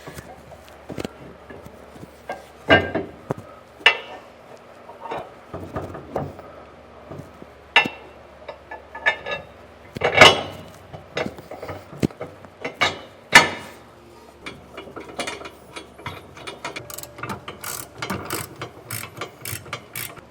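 Ratchet wrench torquing down two bolts on a B&W 5th wheel trailer hitch underbed kit beneath a truck, with bursts of quick metallic clicking and clanks, close, with faint talk in places.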